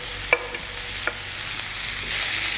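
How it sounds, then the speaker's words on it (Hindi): Tomatoes, onions, ginger, garlic, red chilli and lentils fry in a pan with a soft, steady sizzle, while a few light stirring clicks sound early on; quiet and close, with no talking. "अदरक लहसुन टमाटर प्याज लाल मिर्च ये दालें, इन सब को हम कुक कर लेंगे"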